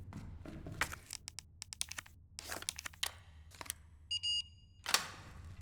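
Short electronic beeping from the video game Resident Evil 2 sounds as a brief tonal burst amid clicky menu and interface noises, with no talk.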